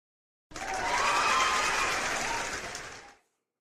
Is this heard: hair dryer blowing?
no